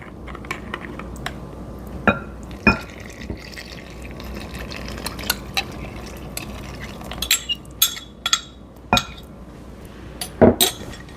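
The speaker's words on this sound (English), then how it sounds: "Now I'm going to try to stir that and make it come together as a dough." A spoon works a homemade pizza dough mixture in a bowl, giving scattered clicks and sharp taps against the bowl over a soft, quiet background scraping, with a cluster of louder knocks near the end.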